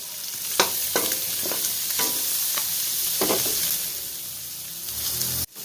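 Garlic and onion sauté in natural chicken fat rendered in the pan, a constant close sizzle broken by several sharp stirring scrapes, ending with a sudden cut.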